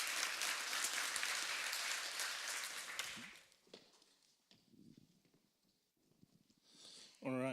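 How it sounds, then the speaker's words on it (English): Conference audience applause fills the room at a tech event, a dense steady clatter of many hands for about three seconds before fading into quieter room noise with scattered voices and movement. "Let's give one more round of applause,"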